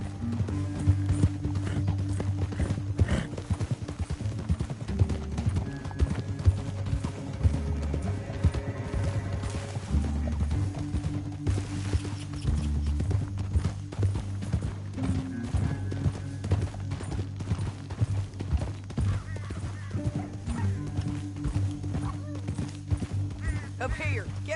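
A horse's hooves clip-clop steadily on a trail in Red Dead Redemption 2, a repeated rhythmic beat under a steady musical score and intermittent voices talking.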